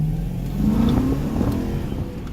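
A manual BMW E90 M3 accelerates, its engine note rising steadily in a smooth rev climb for about a second before easing off into a mid-level drone, heard from inside or close by without talk.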